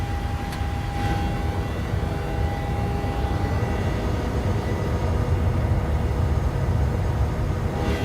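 Steady, broad roar of airliner jet engines climbing out in a PMDG 737-800 flight simulator, a constant droning rumble with a faint steady tone, heard alone at even loudness throughout.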